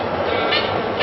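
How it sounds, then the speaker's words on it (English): Aboard the New York A train subway, a steady dense rumble of the moving car fills the short stretch, with brief bursts of brighter hiss, no voices. "you're about to take a ride on New York's famous A train"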